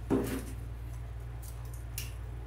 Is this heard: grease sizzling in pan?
no